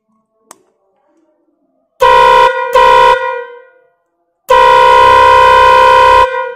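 Three-pipe air pressure horn sounding a loud, harmonic tune note from its center pipe: two short blasts in quick succession, then a long sustained blast, with silence between and no talk.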